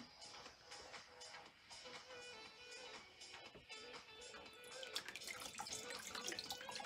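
Water dripping and trickling off a marbled scarf as it is lifted out of a marbling bath, soft continuous splashes and drips growing busier toward the end, faint and close.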